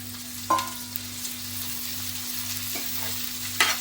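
Cluster bean curry with peanut masala is stirred in a pan over a steady low sizzle, broken by a few sharp spoon scrapes and clinks, up close and with no talking.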